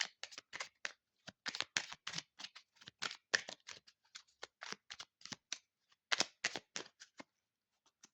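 A deck of tarot cards is cut and handled, giving quiet, quick papery flicks and riffles in uneven bursts, close and soft, with no voice.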